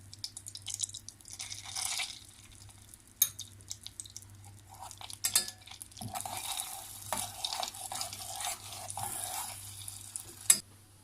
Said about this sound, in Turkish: Tereyağım eriyor.